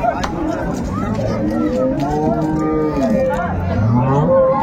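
Cows and calves moo at a busy rural cattle market in Raniganj, Dinajpur, where dairy cows are traded. Several long, drawn-out moos overlap across the clip over steady crowd chatter and voices.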